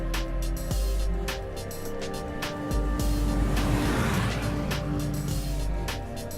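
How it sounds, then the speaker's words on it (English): A Jaguar XF or XJ all-wheel-drive car accelerating around a corner, a steady loud engine drone with road and tyre roar holding across the whole stretch, no voices. "As the vehicle accelerates around the corner"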